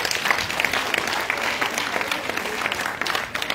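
An audience claps steadily at a rehabilitation centre event attended by Sierra Leone's First Lady, a sustained, even round of applause with no pauses, fairly close.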